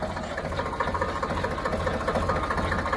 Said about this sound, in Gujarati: પાછું ચાલુ કરી દીધું ટ્રેક્ટર ઘરમાં